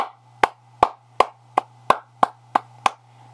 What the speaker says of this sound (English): Okay, clap for this guy.